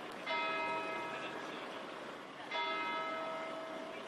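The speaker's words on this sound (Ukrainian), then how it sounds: "Уперше за рік від пожежі у Нотр-Дамі для парижан пролунав його дзвін." A large bell of Notre-Dame cathedral in Paris rings twice, each strike blooming into a long, shimmering hum that decays slowly over a hushed background, with no voices.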